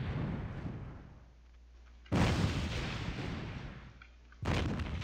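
Artillery in Air Assault 2 fires at the player in a burning wasteland, two sudden heavy blasts a couple of seconds apart, each followed by a long rumbling roar over a low background drone.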